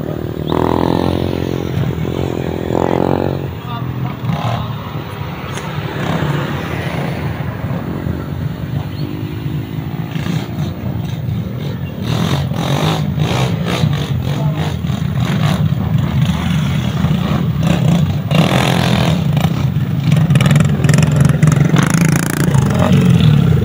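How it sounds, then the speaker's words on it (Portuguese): Motorcycle engines rumble and rev as trail bikes pass close by on a dirt trail ride in Tabira, Pernambuco, Brazil, with clattering and rising engine noise building toward the end. "É muito mais moto."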